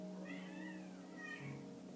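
A house cat meows twice during a yoga session indoors, soft rising-and-falling cries over a steady low background hum, no talk.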